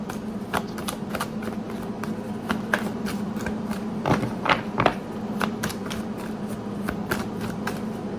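An oracle card deck is shuffled by hand, giving a steady series of quick, crisp riffling bursts and soft card slaps, close and fairly quiet with no talking.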